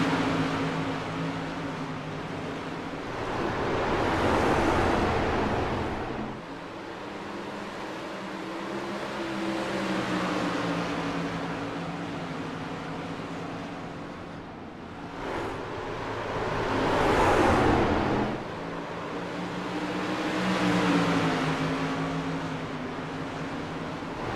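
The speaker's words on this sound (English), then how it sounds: "You can hear how off throttle those cars are at mid-corner." Silver Crown race cars in the iRacing simulator rising and falling as they come off throttle mid-corner, broad engine drone swelling past in waves across the clip, no voices.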